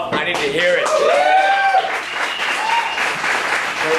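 An audience at a cafe event bursts into loud, sustained applause and cheering, with a voice rising above the clapping.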